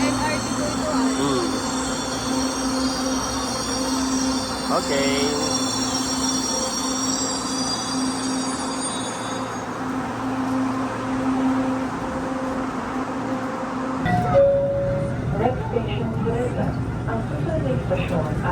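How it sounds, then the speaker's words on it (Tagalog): Manila LRT light-rail carriage in motion, a steady rumble and hum of wheels and motors throughout with a squeal and a shift in tone near the end, while people talk over it. "Nariyan na po yung bagon. Kami po ay sasakay na."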